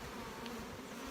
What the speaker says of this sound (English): I'm not worried at all about these bees flying away on me when I dump them in here.